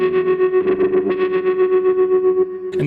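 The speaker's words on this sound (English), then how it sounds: "With the wah effect in a fixed position," Electric guitar through a Kemper Profiler with a wah pedal held fixed in the heel position, a sustained note with pulsing, wobbling tone and an emphasized octave harmonic, loud and alone, with a new strum at the end.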